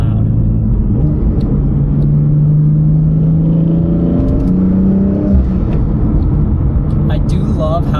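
A BMW M4 with the S55 engine and an Active Autowerke aftermarket exhaust drones and rises in pitch as it accelerates, a loud, steady rumble heard from inside the car throughout.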